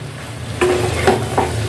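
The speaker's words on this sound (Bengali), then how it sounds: "এটাকে ভালো করে নেড়ে নিচ্ছি" Cabbage being stirred in a hot clay pot makes three distinct scraping strokes over a soft, steady sizzle, close up, with no talking.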